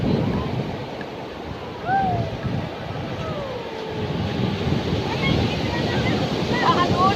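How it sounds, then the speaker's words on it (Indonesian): Ocean waves roll onto Watu Ulo beach in Jember, East Java, as a loud, continuous roar mixed with heavy wind buffeting the microphone, with faint voices in the background. "Ombaknya"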